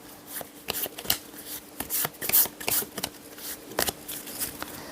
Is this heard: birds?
no